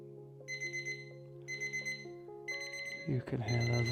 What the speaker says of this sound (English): You can hear there's our timer.